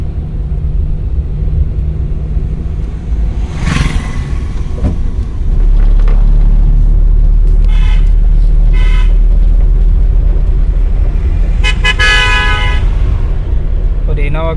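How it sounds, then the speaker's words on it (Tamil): A Toyota Innova from Kerala overtakes on a country road in Tirunelveli district. Sharp horn toots ring out over a constant engine rumble and road noise, and the sound swells as the vehicle passes close by. "ஒரு இனோவா காரு நம்மளை ஓவர்டேக் பண்ணிட்டு போகிறாங்க."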